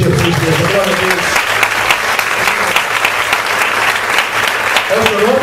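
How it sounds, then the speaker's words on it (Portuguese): A church congregation at a Sunday service applauding, dense continuous clapping with voices and a speaker's talk mixed over it at the start and end. "Pode aplaudir Jesus, Deus."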